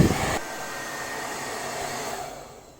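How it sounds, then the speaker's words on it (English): A hair dryer blows on wet clothes, starting with a loud gust and then settling into a steady airy whir that fades slightly at the end, close and continuous with no voices. "we had to dry them with a hair dryer"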